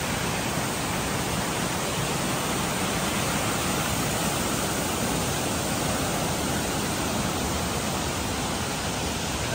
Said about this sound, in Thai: จะมีน้ำตกเป็นชุดเป็นชุดไปเนาะ